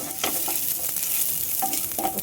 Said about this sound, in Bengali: একটা শুকনো লঙ্কা, তেজপাতা আর একটু পাঁচফোড়ন দিয়ে কিছুটা সয়াবিনকে আমি ওতেই ভেজে নিচ্ছি।